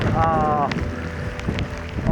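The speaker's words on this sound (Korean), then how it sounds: "이 정도 바람이 불면 조금 힘들 수도 있을 것 같아요." Strong coastal wind buffets the microphone in a steady roar during a rock-fishing outing ahead of an approaching typhoon, with brief low voice-like tones early and faint gusty bursts throughout.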